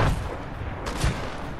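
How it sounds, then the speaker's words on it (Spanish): A few muffled gunshot booms in Fortnite sound at the start and again about a second later, over a steady noisy game background. "Espérate, ¿dónde están disparando?"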